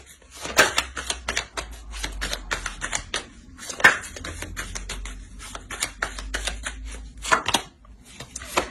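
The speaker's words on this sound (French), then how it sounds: "On va rajouter une carte pour avoir plus de détails" Tarot cards are shuffled and dealt onto a table during a reading, giving sharp, irregular slaps and flicks with quieter rustling between them, close up, with no talking.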